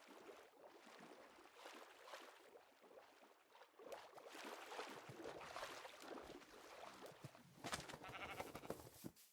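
Sheep bleating in Minecraft, a few soft bleats scattered over a quiet, faint background with no talk.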